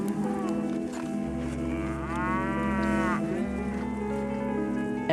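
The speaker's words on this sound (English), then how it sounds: "Today we have 60 million cattle that are populating feedlots." Cattle in a crowded feedlot low repeatedly, with a steady drone of mooing and one drawn-out, rising bellow standing out near the middle, loud and close without any talk.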